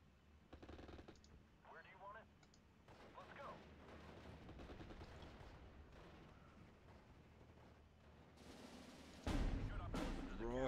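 Artillery and gunfire from the WWII strategy game Steel Division 44, a steady rumble of battle with scattered shots, someone talking over it, and a sudden loud close blast near the end.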